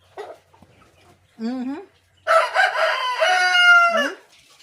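A large hen calls close by in a quiet yard, giving two short throaty calls followed by one long, loud, drawn-out vocalization that ends on a falling note.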